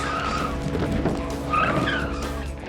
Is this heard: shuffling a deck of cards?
no